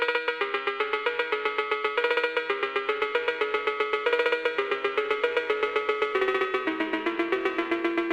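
A fast, evenly repeating cowbell pattern drives a produced beat, with bright metallic hits, clear and upfront and no voices over it.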